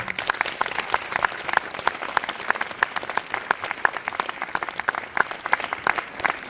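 Dense, steady applause rises from a concert audience at a 20th-anniversary jubilee concert of a children's music festival in Stara Zagora, Bulgaria. Many hands clap continuously throughout without a break.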